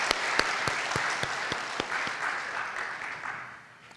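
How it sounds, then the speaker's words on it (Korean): Congregation clapping during a Korean church Sunday service, a broad wash of applause with a few sharp, evenly spaced claps standing out near the front, gradually fading toward the end. "하나님께 영광의 박수하겠습니다."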